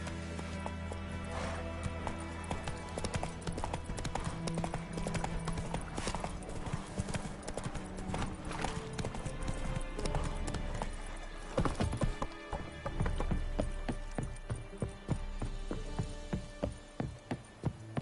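Hooves pound in a fast, steady clip-clop as a horse gallops in The Witcher 3, loud and close, with a brief whinny and game ambience around it.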